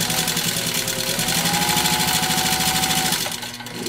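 Singer 15-91 sewing machine with a 0.6 amp potted motor stitching leather, a fast steady mechanical chatter running loud and close throughout, with a brief dip near the end.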